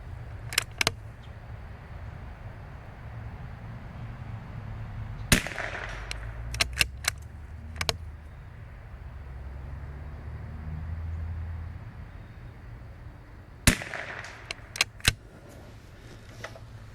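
Sharp .22LR precision rimfire rifle shots ring out outdoors at steel targets in wind, a few spaced cracks, some in quick pairs, with faint metallic handling clicks between them over a steady breezy background.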